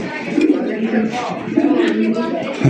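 Soft, repeated cooing of a fancy racer gola pigeon close by, with muffled voices and shuffling in the background.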